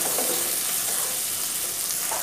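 Tomato, onion and green chili frying in a wok, a loud, even, continuous sizzle with soft stirring movements throughout and no pauses.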